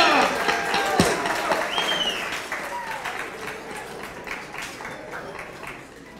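Wedding guests applaud after a toast, a dense, steady wash of many hands clapping in a room that slowly thins, with scattered voices and cheers mixed in.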